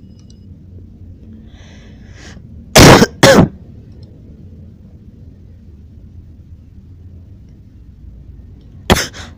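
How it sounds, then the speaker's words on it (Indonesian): Someone coughs: two sharp, close, throat-clearing coughs in quick succession, followed several seconds later by one more short cough over a quiet background. "Lu batuk."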